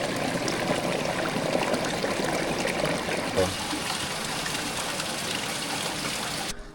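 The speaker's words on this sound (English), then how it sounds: "it's basically a natural spring coming down from the mountain" Natural spring water at Ras El Ma near Chefchaouen, Morocco, streaming down from the mountain: a steady broadband rush and trickle continuing throughout, with faint voices and background talk mixed in.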